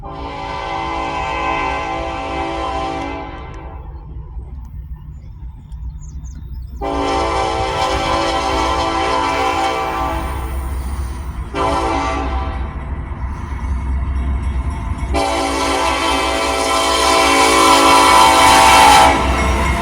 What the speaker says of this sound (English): Our first guest today would be a Norfolk Southern tanker train.